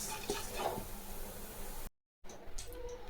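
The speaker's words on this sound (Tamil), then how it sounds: "இந்த அளவில் பூண்டு நம்ம வறுத்து எடுத்துக்கலாம்" Garlic roasts in a pan with a dense, steady hiss of frying that cuts out completely for a moment before resuming at the same level.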